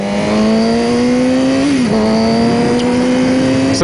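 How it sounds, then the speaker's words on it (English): A car drives past loudly and steadily with a strong engine drone whose pitch dips briefly midway, then continues at a constant level. "a cool car."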